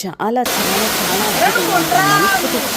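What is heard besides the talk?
waterfall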